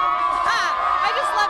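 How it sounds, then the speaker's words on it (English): A high school crowd at Easley High cheers and whoops, with excited shouts and raised voices rising and falling over a steady tone, people talking among the noise. "Cheering along with them."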